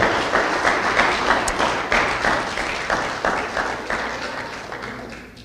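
A church congregation claps in a rhythmic, fairly slow beat, individual claps distinct and regular, the volume gradually tapering off toward the end.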